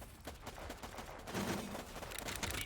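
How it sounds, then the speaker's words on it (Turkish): Rapid gunfire from soldiers in the video game Warpips, a dense spatter of shots that thickens midway, faint and continuous with no talking. "Mesela bak adam buraya sıkıyor bak şuralara falan mermi gidiyor."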